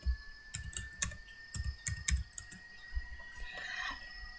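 Keys clatter on a computer keyboard in quick clustered bursts of close typing, then stop, leaving a faint whirr and room hum.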